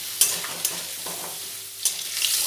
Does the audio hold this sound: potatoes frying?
yes